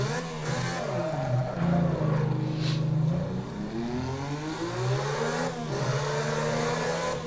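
A racing video game car driven by the AI roars at full throttle, its engine note rising and falling steadily through gear changes without pause, loud and continuous with no talk.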